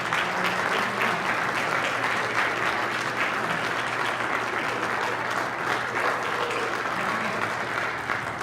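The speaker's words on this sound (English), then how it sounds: "Let's give a round of applause for it." A church congregation at a Christmas Eve service claps in a continuous, even round of applause, moderately loud and steady for the whole stretch without talk on top.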